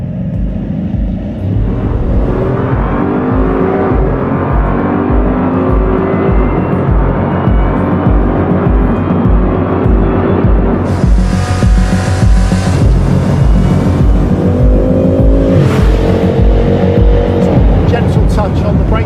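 A 2021 Bugatti Chiron hypercar accelerates hard toward its top speed, its engine roaring loud and continuous with rising pitch and heavy wind rush building partway through.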